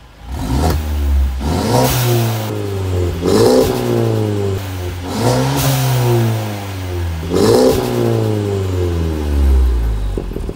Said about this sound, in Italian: l'auto sta scaldandosi ancora sul banco con i componenti racing installati